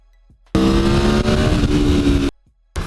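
A motorcycle engine revving on the throttle at Americade 2018: a loud, smooth, harmonic rev that holds for nearly two seconds, rising slightly before dropping off, then a short burst begins again.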